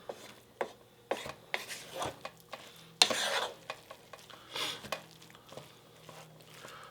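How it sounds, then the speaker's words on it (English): Rice being stirred together with mushrooms and green onions in a pan, close scraping and shuffling strokes repeating in an uneven rhythm, with a faint sizzle and a louder scrape partway through. "all you need to do is just go ahead and stir everything together"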